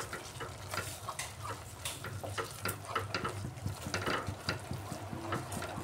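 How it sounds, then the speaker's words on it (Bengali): Spice masala with ground tomato stir-fried in a pan: a steady close sizzle with rhythmic spoon scraping and soft ticking stirs throughout. "এখন আমি এর মধ্যে দিয়ে দিচ্ছি বেটে রাখা টমেটো। টমেটোটা দিয়েও আরেকটু সময় কষাতে হবে।"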